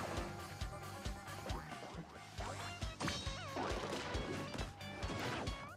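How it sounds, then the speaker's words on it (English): A hammer smashing bugs in Paper Mario: The Origami King: a busy run of game sounds with repeated sharp crashing and whacking hits over bouncy background music. "let's see what the hammer can do"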